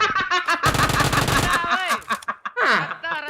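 Automatic gunfire in PUBG rattles in a dense rapid burst near the start, set amid excited voices talking over and after it.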